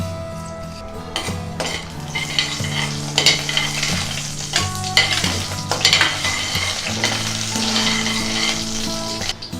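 Loud sizzling of cinnamon, cloves, cardamom and cumin seeds frying in hot oil, with stirring scrapes and occasional clinks of a utensil against the pan, continuous throughout with no talking.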